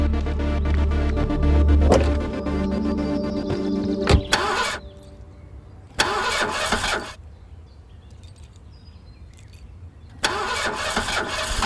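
A car engine cranks, starts and cuts out, then is tried again in repeated bursts with quiet gaps between them, loud and close with no talk.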